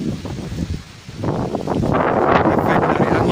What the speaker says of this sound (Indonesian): di lahan terjadi badai angin yang sangat kencang